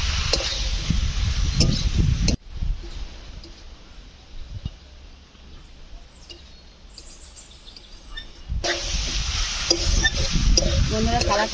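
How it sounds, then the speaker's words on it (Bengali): Young jackfruit is stirred into masala and fries with a steady sizzle and scraping in a home kitchen, and the sizzle drops quieter in the middle before returning loud. Birds chirp faintly in the background. "এবার আমি এই মশলার ওপরে এঁচোড়টা দিয়ে দেবো"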